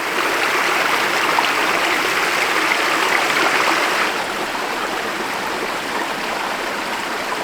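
A mountain creek runs through forest of towering mountain ash in snowy winter country, its steady broadband rush of flowing water continuous and close, easing slightly partway through, with no voices.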